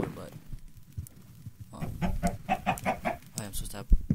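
Chickens on a farm in Minecraft give a quick run of clucks that rise out of a quiet background. Faint speech and game noise sit underneath.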